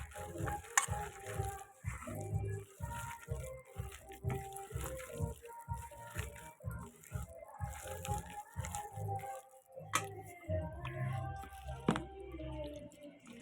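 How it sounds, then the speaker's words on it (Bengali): Hand mixing mustard flower fritter batter with water makes soft, rhythmic squelching and slapping pulses, close and fairly quiet, repeating steadily with small wet crunches. "জলটা দিয়ে দিয়েছি এবার সুন্দর করে মাখতে হবে এটাকে"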